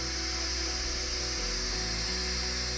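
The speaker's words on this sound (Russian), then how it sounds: "И после этого можно медленно начинать сверлить, правильно отцентрировав сверло и позже сверлить с большей скоростью на нужную глубину." Heller ProXtreme drill boring into granite, a steady high-pitched grinding whine that holds constant throughout, close and alone with no voices.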